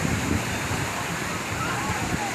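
Steady roar of strong surf washing on a beach below Kaybiang Tunnel, Cavite, broadband and continuous, with wind buffeting the microphone and faint voices mixed in.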